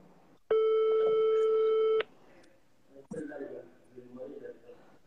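A single long phone ringing tone sounds loudly for about a second and a half during a call, then stops, followed by someone talking quietly.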